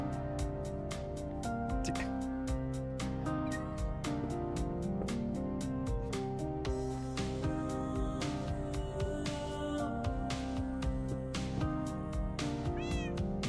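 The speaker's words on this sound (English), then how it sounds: "Talking to this virtual cat like I talk to a real cat." A virtual orange cat in Minecraft meows several times over a steady, busy layer of game music and sound effects.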